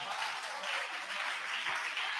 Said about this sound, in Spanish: rindámosle ese aplauso más fuerte a Cristo en esta mañana